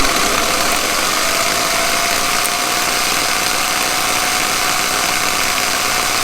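A car starter motor spins on the bench, powered straight from a car battery through jumper cables, giving a loud, steady whirring drone with a faint high whine that runs unbroken for the whole stretch, with no talking.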